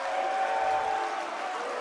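A crowd applauds at a high school basketball game between Xavier and Regis, a steady wash of clapping that fills the gym and eases slightly toward the end.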